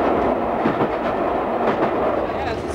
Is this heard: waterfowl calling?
no